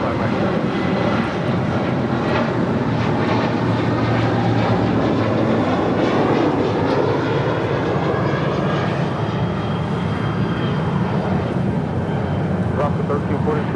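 An airliner takes off from runway 25 right at LAX, its jet engines building into a steady loud roar that holds throughout while voices talk over it.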